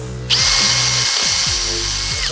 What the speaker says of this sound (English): So now we can drill out this guy.